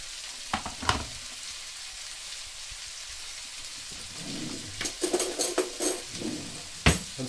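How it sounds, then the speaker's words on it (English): A fork scrapes and clinks against the inside of a pot while dissolving a stock cube in water, scattered light taps at first, then a busier burst of stirring and clinks near the end. "Stir with a fork just to dissolve the cube."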